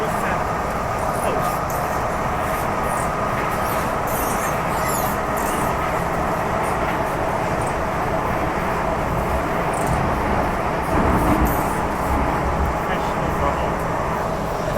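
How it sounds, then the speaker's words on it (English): Freshly overhauled MTR M-train running on Hong Kong's Island Line, heard from on board: a steady, loud rumble and hiss that holds evenly throughout without a break. "this train was just freshly overhauled"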